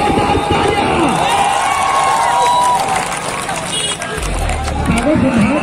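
Crowd noise from spectators at a cricket match in a PPL tournament, a dense, steady roar of cheering and clapping filling the whole clip at close range, with no clear speech on top.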